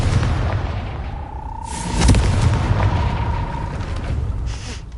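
A Confringo blasting spell in Hogwarts Legacy goes off with a loud, booming burst and crackling debris that rumbles on over steady ambient game noise, with a faint tonal hum running alongside.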